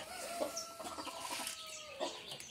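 Hens and chicks being let out of their coop: a flock clucks and chatters continuously at close range, with short squawks and calls rising over the busy cackling and no one talking.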